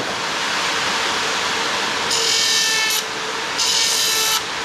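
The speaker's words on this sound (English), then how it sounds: "I use this 36 plus grit Rollock and let's spinning this" A rough abrasive hiss of a 36-grit Roloc disc grinding against wood, with two louder bursts of harsh scraping as the disc bites harder, close up.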